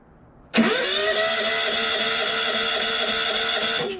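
A Yamaha EF4500iSE generator, just fitted with a new air box, cranks briefly then catches and runs at a loud, steady mid-pitched drone at close range for several seconds.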